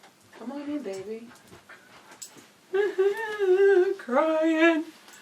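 Tupelo the dog whimpering and crying at a door in a string of high, wavering whines, with panting in between, moderately close.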